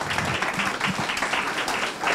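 Applause from an audience at a school closing ceremony for a teacher, a steady, moderately loud wash of many hands clapping without pause.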